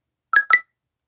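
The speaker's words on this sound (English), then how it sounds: "And that's my phone. I forgot to turn off the notification sound." A phone notification chimes as two quick electronic tones in succession, short, clean and close, followed by silence.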